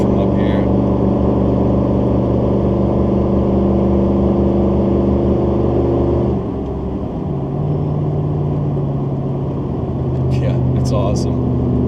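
A 6.2L swapped engine holds a steady drone near 2500 RPM as the car climbs a hill, shifting to a lower, rougher tone midway, with talk over the top throughout.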